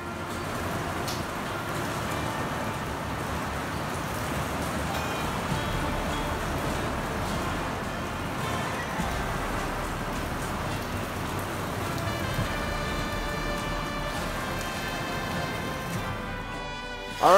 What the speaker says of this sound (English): here you can hear the rains